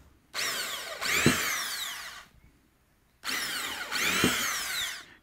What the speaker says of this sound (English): we'll drill a little pilot hole through here